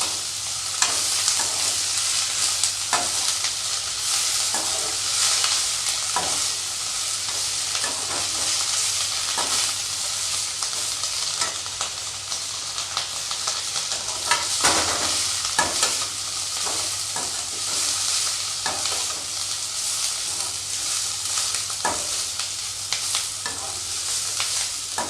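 Ridge gourd peel stir-fried in a pan, a steady close sizzle with regular scraping strokes of a spoon running through the whole stretch, no voices.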